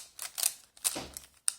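3x3 Rubik's cube being twisted, a few quick plastic clicks and clacks in short bursts, close and faint, with no talk.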